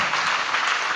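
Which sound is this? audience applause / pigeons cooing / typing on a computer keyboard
audience applause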